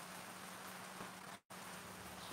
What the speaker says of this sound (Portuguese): Aqui tá chovendo.